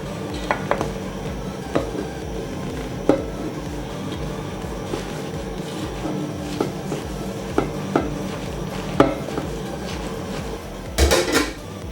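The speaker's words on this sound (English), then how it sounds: "Mix them vizuri, and then you cover your pan so that they cook nicely also." Onions cooking in a pan as the cook stirs with a utensil, repeated metallic scrapes and knocks over soft sizzling, then a lid clattering on near the end, close and loud.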